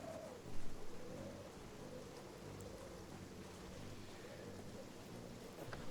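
Steady rain falls in the video game Project Zomboid, a dense, even hiss that continues unbroken throughout, with a brief louder swell near the start and no talk.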